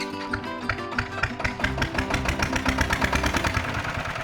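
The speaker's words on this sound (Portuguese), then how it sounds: "O Tobata foi o primeiro microtrator brasileiro" A Tobata Brazilian micro tractor engine runs steadily, a close, loud, rapid rhythmic chugging with dense mechanical clatter, continuous throughout without talk.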